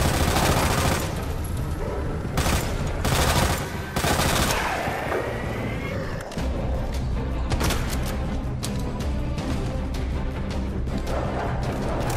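Rapid machine-gun bursts and heavy shotgun blasts ring out in Resident Evil 2, with sharp repeated volleys and loud booms in dense, near combat lasting throughout.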